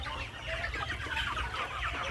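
Chickens and chicks clucking at feeding time, a busy overlapping chorus of clucks and soft peeps, close and continuous.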